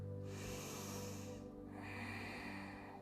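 A slow, deep yoga breath: a long airy inhale, a short pause, then a steady exhale, soft and close-miked with no talking.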